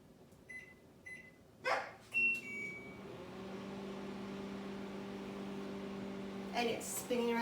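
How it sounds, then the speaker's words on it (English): A microwave oven runs for 90 seconds with a bar of Ivory soap inside, its turntable spinning. A steady, moderate hum carries through most of the clip, with a few short beeps and clicks at the start and end. "And it's spinning around, my microwave spins around."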